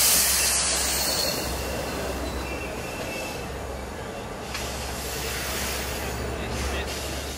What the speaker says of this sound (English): this is the westbound weekday off-peak 11:18 a.m. Montauk to Jamaica train 2707